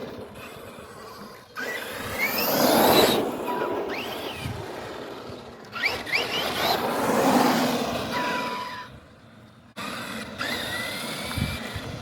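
Arrma Kraton RC car on 4S power during a speed test, its electric motor whining in two rising full-throttle runs separated by brief pauses, with bursts of wheel and gravel noise.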